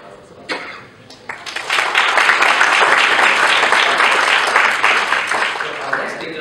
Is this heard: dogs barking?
no